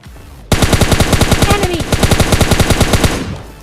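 SCAR assault rifle in a battle royale video game firing a long, loud, rapid automatic burst of evenly spaced shots that starts abruptly and runs for about three seconds.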